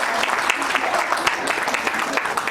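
Steady applause from a crowd at an International Women's Day event in India, dense clapping that holds at an even level throughout with no pauses.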